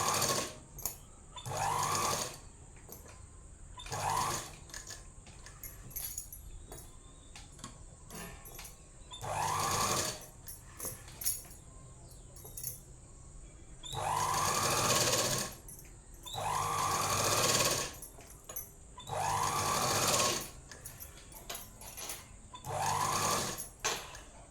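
Sewing machine stitching a chudidhar top in a tailoring setting, running in repeated short bursts of rapid whirring separated by pauses, close and fairly loud.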